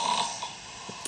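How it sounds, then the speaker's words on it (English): A person snores in a thin, trebly way, with soft breathy snorts close by. The sound is faint and brief against a quiet, hissy room. "You've got a really trebly snore."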